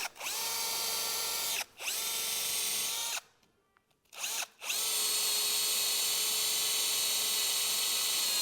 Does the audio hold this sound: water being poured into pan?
no